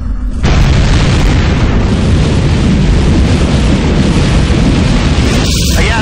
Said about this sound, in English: There's been some kind of explosion.